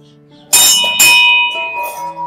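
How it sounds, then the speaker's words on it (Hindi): A bell is struck twice in quick succession, each clang ringing out clearly and fading into a lingering metallic hum. "हम लोग पहले आरती का घंटी बजा देते हैं"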